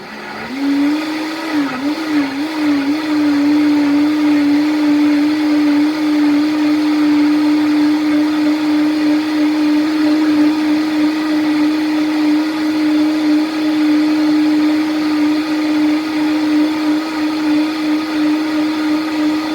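A Vitamix blender on its low setting whirs a smoothie with a loud, steady motor drone that wobbles briefly at startup, then holds one even pitch for nearly twenty seconds, close to the listener with no talking.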